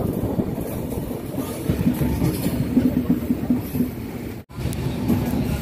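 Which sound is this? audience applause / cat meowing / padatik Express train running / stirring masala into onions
padatik Express train running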